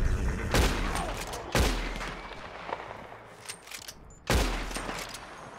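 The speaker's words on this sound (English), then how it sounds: "I'm going to have to shoot him" Gunfire in the video game Red Dead Redemption 2: three sharp, loud shots spaced about a second or more apart, each with a short echoing tail. Quieter ambient outdoor noise fills the gaps, and no one speaks.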